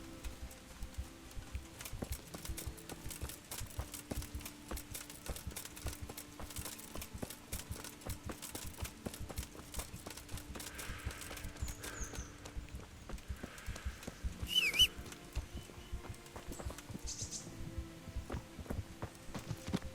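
A horse's hooves clop steadily in Kingdom Come Deliverance, a fast even rhythm that runs the whole time at moderate, somewhat muffled loudness with a faint hum beneath.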